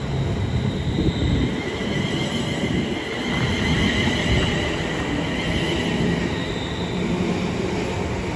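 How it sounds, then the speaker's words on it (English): A London Northwestern Railway train departs Milton Keynes Central, heard as a steady rolling rumble of wheels and motors with faint squealing tones drifting over it for several seconds, fairly distant and continuous with no speech. "Soon to depart now will be the late running 11:49 London North Western Railway service to London Euston."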